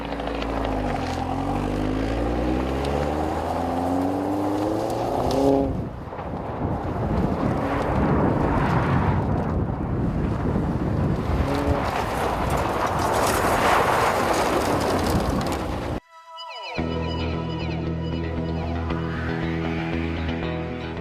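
A 2014 Chevy Sonic Turbo accelerates hard, its engine drone climbing in pitch through several rising sweeps with a brief break at a gear change, loud and steady over rushing wind noise.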